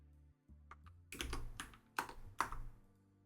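Quiet computer keyboard typing: a few soft taps, then several sharper keystrokes in an uneven rhythm, close and fairly faint with no talking.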